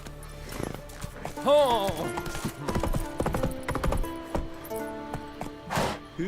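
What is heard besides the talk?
Roach the horse's hooves, from video game Witcher 3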